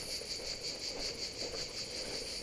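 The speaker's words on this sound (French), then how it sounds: "Ah, vous entendez les cigales là" Cicadas sing in pine and eucalyptus trees along a coastal footpath in Sardinia, a steady, pulsing buzzing drone that stays continuous and moderately faint.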